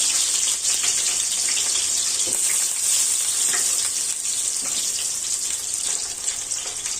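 Chopped onion frying with cinnamon, cardamom, bay leaf and cloves in hot oil, a loud, steady, close sizzle that stays even throughout with faint stirring textures.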